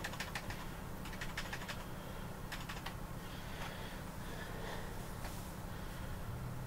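Quiet, scattered clicking of a loud computer keyboard under a steady low hum, with a few short bursts of faster taps.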